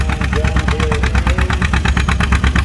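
A vintage farm tractor engine chugging at a tractor pull, a loud, close, rhythmic thumping with a short rising whine, while voices talk over it.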